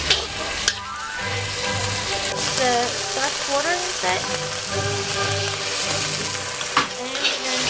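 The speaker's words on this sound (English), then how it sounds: "right now we need some time to fry the eggplant to make the paste go inside." Eggplant frying in a hot wok for a Chinese fish-flavoured eggplant dish at a cooking school in Dali, Yunnan, a loud continuous sizzle with occasional stirring scrapes, close by, while a person speaks over it.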